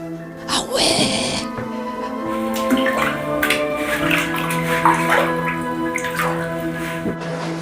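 Bare feet splash and slosh in the cold water of the quarrymen's foot bath in the Paris catacombs. Close, irregular splashes ring out under excited voices and exclamations in an echoing stone chamber.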